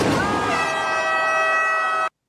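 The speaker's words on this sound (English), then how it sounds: "Of course, air horn guys there" A loud, sustained air horn blast with rich stacked harmonics, holding steady for about two seconds before cutting off abruptly.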